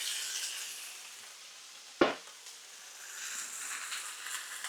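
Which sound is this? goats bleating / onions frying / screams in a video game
onions frying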